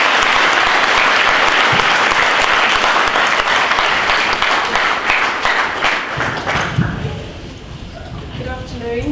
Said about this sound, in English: so school, big round of applause for us.